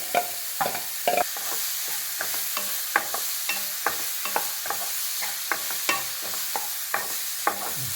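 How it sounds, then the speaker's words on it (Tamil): Soya chunks frying in hot oil in a pan, with a steady sizzle under repeated scraping and stirring strokes at a regular pace, close and without talk. "எண்ணெயில் ஒரு வறுப்பு வதக்கியாச்சு."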